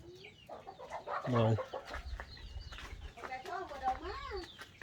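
Chickens cluck close by in a noisy outdoor setting, mixed with bursts of talking and a steady low hum underneath.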